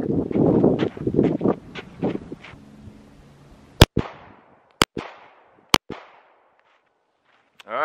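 Pistol shots fired in a training drill string: three sharp, loud cracks spaced about a second apart with brief echo tails, preceded by muffled handling noise and movement.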